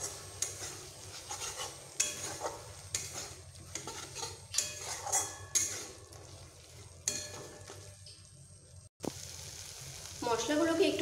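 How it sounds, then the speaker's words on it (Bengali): Spices frying in a pan for a Bengali ridge gourd dish, a faint crackling sizzle broken up by intermittent clatters of a spatula stirring and scraping the metal, one sharp knock near the end. "মশলাগুলোকে আমি একটু ভালোভাবে কষিয়ে নিচ্ছি।"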